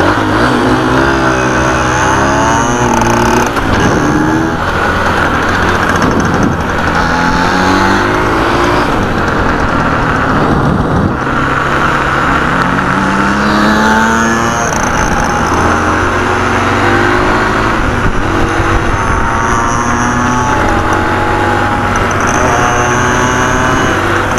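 Small engine on a 2001 Yamaha PW80 dirt bike, running loud and close with a steady, buzzing drone that rises and falls in pitch as the throttle varies.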